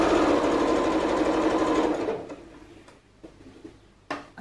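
A sewing machine back-stitches a jacket sleeve with a steady rapid whirring run for about two seconds, then stops, leaving a few faint clicks and small handling sounds.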